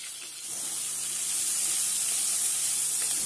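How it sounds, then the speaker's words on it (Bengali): Chopped onions are frying in a wok with cumin seeds. They give off a steady, close hiss of sizzling oil that grows slightly louder and then holds, with no talking over it. "এবার পেঁয়াজ কুচিগুলো আমি কড়াইয়ে দিয়ে দিলাম, এগুলোকে আমার ব্রাউন করে ভাজতে হবে।"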